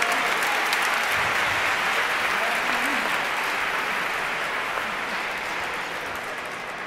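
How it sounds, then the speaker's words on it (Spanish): An audience applauds at an educational concert with a steady, dense clapping that stays loud and unbroken for several seconds before easing off slightly near the end. "Que resuene ese aplauso, por favor."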